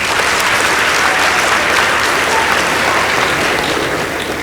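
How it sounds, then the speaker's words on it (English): Loud, dense applause from an audience at a school debate contest between girls' high schools, continuous and even for several seconds without a break. "Please give them a round of applause."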